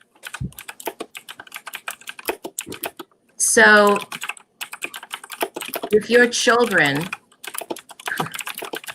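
Rapid, steady clicking of computer keys runs throughout, continuing under a couple of brief stretches of someone talking.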